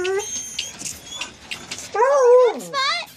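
Two puppies let out high, wavering whimpers and squeaks at close range on a cluttered porch, a few short cries in quick succession amid faint shuffling.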